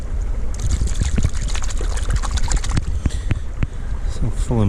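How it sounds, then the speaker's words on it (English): A muddy object, likely household scrap, is rinsed in a small burn, with close splashing, trickling and sloshing water. Brief knocks can be heard among the water sounds. "I'm going to rinse this off and see if we can figure out what it was"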